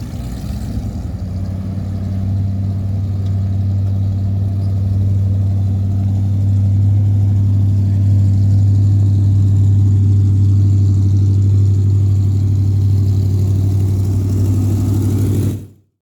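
A car engine runs close by with a loud, steady low hum and a faint whir on top, holding even for about fifteen seconds before cutting off abruptly.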